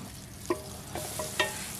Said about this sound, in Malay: Pertama sekali masukkan bawang besar dalam satu labu yang telah kita potong dadu kecil-kecil tu.